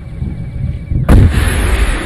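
A single loud gunshot in Arma 3, a sharp close blast with a rolling echoing tail, preceded by low background rumble and no talking.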